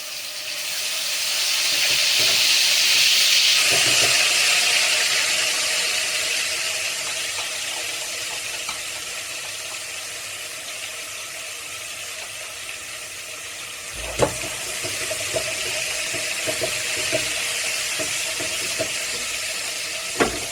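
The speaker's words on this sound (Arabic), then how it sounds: "دلوقتي انا حطيت الزيت وادي الثوم" Garlic sizzling in hot oil for Egyptian ful nabet, a steady broad hiss that swells early then settles into a continuous fry with occasional small pops and clicks, close and alone without talk.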